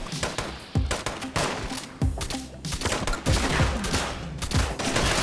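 Rapid bursts of gunfire from a weapon in the video game Fallout 76, loud and close, firing in several clustered volleys with short gaps and no talk over it.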